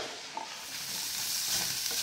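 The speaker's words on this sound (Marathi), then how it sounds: "असा दोडका जो आपण आता या कढईमध्ये भाजत आहोत" Steady sizzling and frying hiss of ridge gourd roasting in a hot pan, with faint stirring scrapes, continuous and close.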